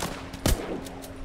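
Gunfire at bandits in the video game The Walking Zombie 2, with one sharp, loud shot near the middle and fainter shot-like bursts around it over steady game background.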